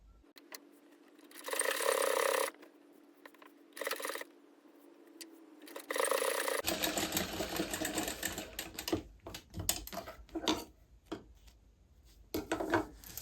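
Sewing machine stitching fabric in short runs, a fast steady whirring buzz that starts and stops, close and clear, alone without talk.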